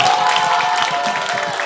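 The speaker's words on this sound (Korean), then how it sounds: "박수." Middle-school students at a career camp applaud to welcome a dermatologist speaker, giving a brief burst of steady, close clapping with no voices over it.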